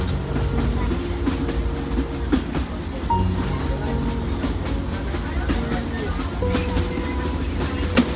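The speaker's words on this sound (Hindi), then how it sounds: "तो अब ट्रेन पहुंचती है केवड़ी रोड" A narrow gauge train on the Billimora–Waghai line rolls steadily along, with continuous loud rumble, wheel clatter and carriage rattle throughout, and faint voices or announcements sometimes audible over the running noise.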